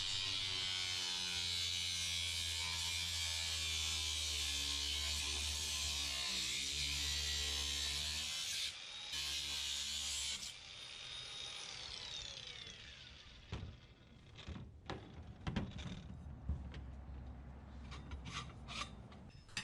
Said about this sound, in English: I'm using an angle grinder, but you can use a hacksaw or a sawzall.